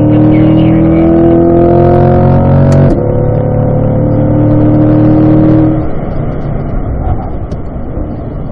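A race car at a driving school accelerates hard on a track straightaway, its engine droning loudly as the pitch climbs through gear changes, then settling into a rougher, fading roar.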